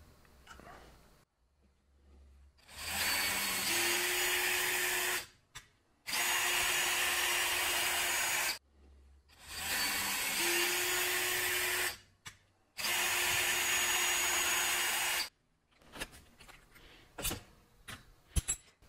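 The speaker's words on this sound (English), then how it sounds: "Now I'm using a 1032 tap." A power drill drives a 10-32 tap into holes in a metal part, with four steady bursts of whirring motor of about two to three seconds each, separated by short pauses, close and clear with no talking.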